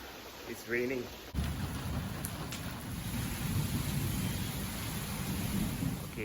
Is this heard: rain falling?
yes